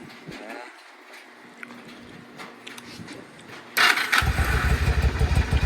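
Yamaha V-Star 1100 Custom motorcycle fitted with Cobra slip-on mufflers and rejetted carburetors starts up: a short cranking whir, then the engine catches and settles into a loud, lumpy, close idle.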